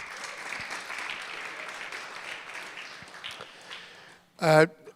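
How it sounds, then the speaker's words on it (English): A conference audience at a fall business summit gives a round of applause, steady dense clapping filling the room and fading out, followed by a brief loud burst of sound at the end. "a round of applause for everybody who has been working around the clock"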